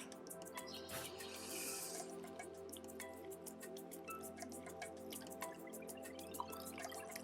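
Lime squeezed by hand into ceviche, a quiet run of close drips and wet squishes with a brief soft pour early on, faint and without talk.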